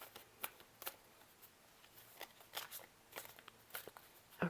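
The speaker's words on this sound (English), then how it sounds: "So let's shuffle this up a little bit." Quiet, crisp bursts of tarot cards being shuffled, several riffles and taps coming in irregular bursts close by.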